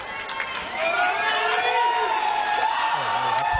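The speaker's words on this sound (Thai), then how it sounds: "เชียร์กระหึ่มครับซาเวีย" A crowd cheers and roars steadily at a Max Muay Thai fight in Thailand, sustained loud noise with whoops, with a commentator talking over it.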